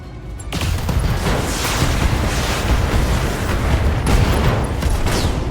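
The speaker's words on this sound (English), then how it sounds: "MG ammo explosion" Machine-gun ammo detonates in the BattleTech video game: a sudden blast erupts, then a sustained, dense crackling roar continues for several seconds with no voices.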